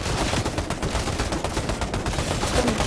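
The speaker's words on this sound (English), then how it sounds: "I'm shooting here." Rapid, continuous gunfire in the Fortnite video game, loud and dense bursts of shots with no pause, heard alone without speech.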